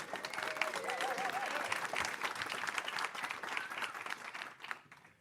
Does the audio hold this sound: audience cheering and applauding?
yes